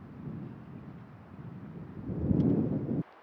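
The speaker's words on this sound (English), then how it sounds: "Amazing wind coming in from this direction." Wind blows in a quiet mountain valley near Lake Alpine, a faint low rushing that builds into a stronger gust near the end before cutting off abruptly, with no voices.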